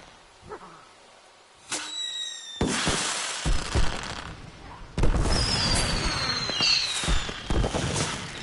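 Fireworks in the video game Concrete Genie: a whistling launch followed by repeated loud crackling bursts and booms layered with fizzing sparkle, growing denser and louder toward the end.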